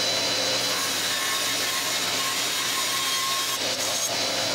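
Saw cutting through a wooden block to rough out a Gothic finial cap: a steady, close, raspy cutting noise with a faint tonal whine, continuous for several seconds before briefly dipping near the end, with no voices.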